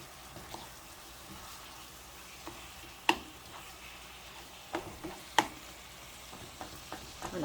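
Ground meat frying in a pan with minced garlic, dried parsley, garlic powder and Italian seasoning, a steady low sizzle with occasional sharp clinks and scrapes of stirring, no talking.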